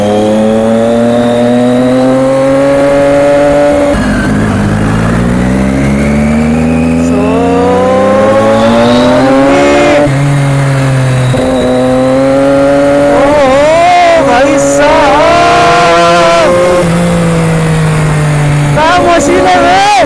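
A motorbike engine roars loud and close while riding off-road, its pitch climbing and falling with repeated throttle changes, and a rider's voice talks over it now and then.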